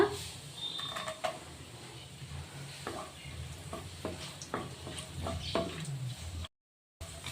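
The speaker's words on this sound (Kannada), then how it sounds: "ನೋಡಿ, ದ್ರಾಕ್ಷಿನೂ ಸಹ ಫ್ರೈ ಆಗಿದೆ." Raisins fry in ghee in a pan with a soft steady sizzle, while a spoon scrapes and stirs in repeated sharp strokes nearby. A brief silence comes near the end.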